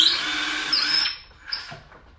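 A power drill bores a pilot hole in wood for a planer stand, a loud whining run that winds down after about a second, followed by a short second burst and quieter tool clatter.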